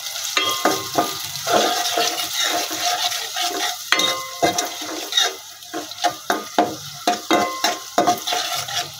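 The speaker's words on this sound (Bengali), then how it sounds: "হালকা পেঁয়াজটা একটু ভাজা হোক।" Chopped onion fries in oil left from browning chicken. A continuous close sizzle runs under repeated scraping stirs and clinks of a spatula against the pan, with a fairly regular rhythm toward the end.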